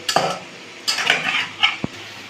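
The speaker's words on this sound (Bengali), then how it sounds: "ভালো করে ভালো করে নেড়ে চেড়ে নিচ্ছি যাতে ভিনিগারটা চারিদিকে মেখে যায়" Chicken and onions with vinegar being stirred in a pot, heard as a few short scraping and clinking strokes of a utensil against the metal with a light sizzle between them, close and separate.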